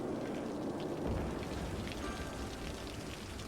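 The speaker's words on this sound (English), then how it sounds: "This rain makes this look like a good time to be inside," Steady rain falls across a city in the game Cities: Skylines, a dense, even hiss of drops on surfaces that holds at a constant level for the whole stretch with no voices.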